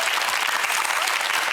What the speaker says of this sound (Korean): 이런 분한테 박수를 쳐드려야 되는 게 예